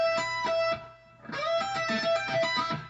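An electric guitar plays a fast pedal riff from a song's solo in alternate picking, quick bright notes in a steady run, close and clear, broken by a brief pause.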